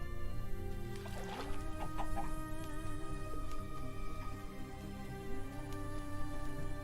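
Chicken clucking from a Minecraft game, a few short clucks over a constant steady hum of game sound, with no one talking during it.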